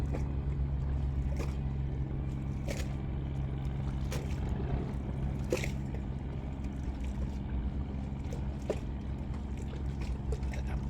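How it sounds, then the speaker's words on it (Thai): A steady low engine drone from a fishing boat returning on the Pattani River at night, continuous and moderately faint, with scattered clicks and small knocks over the hum. "ก็ยังคงมีเรือประมง กลับจากหาปลาอยู่นะครับท่านผู้ชมครับ"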